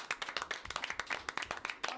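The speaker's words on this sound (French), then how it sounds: "Nous applaudissons." A small group of people clapping in a quick, uneven patter, fairly close and steady for two seconds with no talking.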